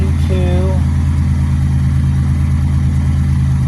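A Buick car engine idles steadily throughout, a loud, constant low rumble with a brief faint tone early on.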